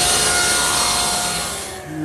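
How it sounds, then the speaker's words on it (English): A saw rips a strip from a jointed piece of cherry wood, a loud, steady whining cut that holds for about two seconds and then eases off as the blade clears the board. "and we'll rip a strip"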